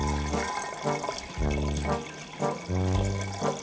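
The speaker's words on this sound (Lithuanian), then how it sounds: "Tuomet įsipilam vandens, kad aprūpintumėm augalus vandeniu ir jie ilgiau išsilaikytų." Water pours into an autumn flower arrangement, a continuous splashing, gurgling flow that rises and falls in pulses over several seconds, with no speech.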